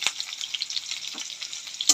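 Chopped onion frying in oil with dried red chillies, bay leaf and crushed garlic crackles in a bright, close sizzle with scattered pops, steady from start to finish.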